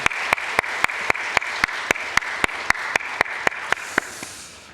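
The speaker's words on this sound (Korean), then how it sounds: "이날을 주신 하나님 앞에 영광의 박수 올려드리십시다" A church congregation claps together during a Sunday worship service, a steady rhythmic beat of about fifteen sharp, evenly spaced claps over a soft wash of scattered clapping that fades at the end.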